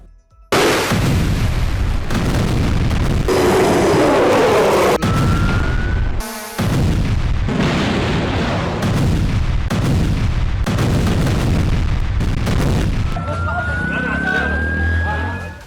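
Loud explosions and bursts of gunfire or artillery from news footage of Israeli bombs, drones and missiles striking, with repeated heavy impacts across the clip and a siren-like tone rising near the end.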